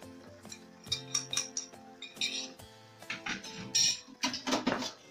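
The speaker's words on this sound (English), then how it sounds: "we'll give it a good stir" Metal spoon scraping and clinking against a pot while egg curry is stirred at home, a series of close, uneven clatters and taps over a steady background hum.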